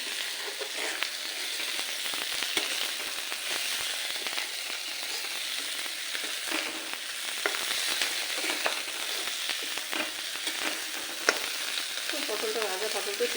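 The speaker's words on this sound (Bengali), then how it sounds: "মশলার সাথে কষিয়ে নেবে।" Pointed gourd pieces fry with spices in a hot pan, giving a steady, moderately loud sizzle with scattered crackles and occasional stirring scrapes throughout.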